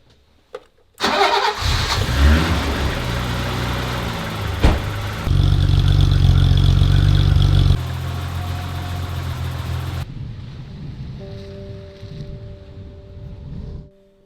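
A car engine cranks and catches, roars loudly with a few revs, then settles into a steady idle that drops lower before a faint tone closes the clip.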